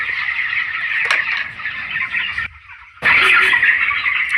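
Young chicks on a poultry farm chirp in a dense, continuous high peeping chorus, briefly dropping away for a moment before resuming loudly.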